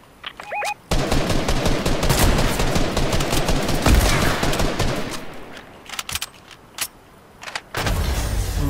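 Bursts of rapid automatic gunfire in Fortnite Battle Royale, loud and close, with brief pauses and single shots between volleys, over a rumbling engine-like background.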